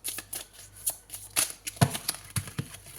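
Cards handled while a card is drawn from a tarot deck: a series of light papery flicks and rustles with a few sharper slaps, close and quiet.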